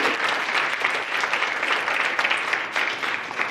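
Audience applause for the labor staff at a presentation, dense steady clapping from a crowd that fills the whole stretch without a break.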